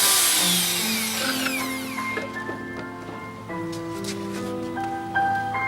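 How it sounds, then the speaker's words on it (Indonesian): A power drill fitted with a hole saw bores into plywood, its motor whining in changing steady tones over a rustling, grinding cut, moderately close and with no talk. "Mudah sekali melubangi dengan bor kaleng ini."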